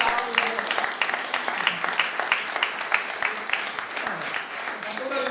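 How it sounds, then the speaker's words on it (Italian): Audience at an opera and romance concert at the Pertini theatre in Jesolo claps in welcome for a tenor, with moderately loud, steady applause and voices mixed in underneath. "Accogliamolo con un clamoroso applauso."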